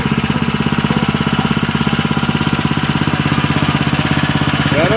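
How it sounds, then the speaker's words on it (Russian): A homemade vehicle built from Niva parts with a Honda engine runs nearby, a loud, steady, rapid mid-pitched putter with regular firing pulses and no speech over it. "Нива и хондовский двигатель."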